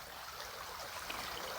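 River water flows and trickles around the feet of someone standing in a shallow river on a hot day, a soft, steady, close babble with no voices.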